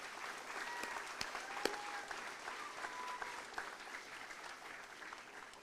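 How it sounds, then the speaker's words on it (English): An audience applauds at an outdoor political picnic, a steady patter of clapping from a moderate distance that keeps going for several seconds. "That deserves a round of applause."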